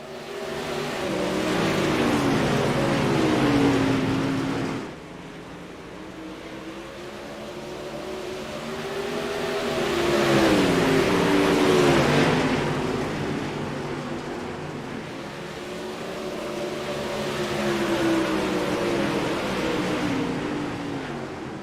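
Dirt-track race cars roar past on a track at a Knoxville event, engine drones rising and falling in pitch as they pass, loud and continuous throughout with no talk over them.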